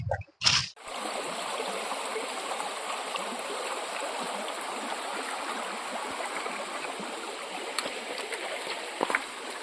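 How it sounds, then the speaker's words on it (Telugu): A forest stream flowing steadily, a soft continuous rush of water after a short bump at the start, heard close and fairly quiet with no talking. "అడవి లోపల అయితే ఇలా వాటర్ అనేది ఫ్లో అవుతూ ఉంటుంది"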